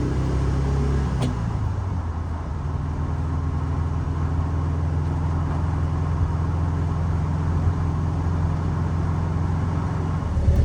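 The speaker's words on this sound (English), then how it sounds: "You hear more wind noise probably than the muffler." A VW Beetle, the last US model, cruising with a Vintage Speed muffler, its steady low engine drone buried under loud continuous wind rush for the whole stretch, with one brief click near the start.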